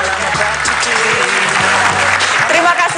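Studio audience applauding to welcome Mama Aleta on an Indonesian talk show, dense sustained clapping close and loud, with a voice speaking over it.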